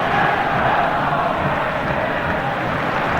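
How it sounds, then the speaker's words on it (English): Hampden Park football crowd rising to applaud an injured Leeds United goalkeeper carried off on a stretcher, a steady, dense wash of applause and cheering from a large stadium audience throughout. "a wonderful Hampden crowd rising to Gary Sprake as he's carried off on a stretcher"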